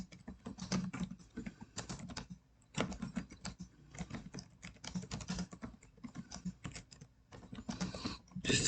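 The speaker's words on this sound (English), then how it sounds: "just to type in something and then save it" Quick, uneven bursts of keystrokes on a computer keyboard, close and fairly quiet, with short pauses between runs of typing and no voices.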